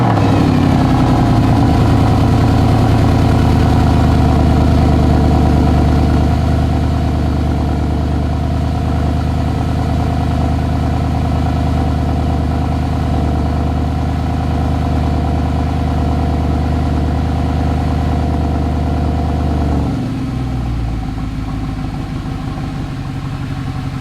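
A Mercedes SLS AMG fitted with a new AFE air filter after a cold start, its engine running at a loud, steady, high idle that settles slightly lower partway through, close and alone.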